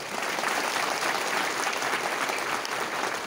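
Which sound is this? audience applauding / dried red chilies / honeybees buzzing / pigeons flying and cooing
audience applauding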